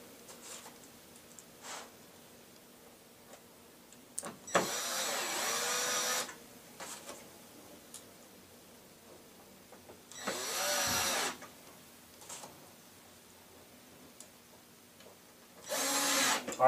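A power drill drives screws to anchor a Lazy Susan during cabinet assembly, in three separate whirring bursts of a few seconds each, with quiet pauses between them and no talking.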